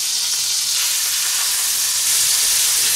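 Pork steaks frying in a pan on the stove, giving a steady, close sizzle and hiss that runs unbroken throughout with no voices.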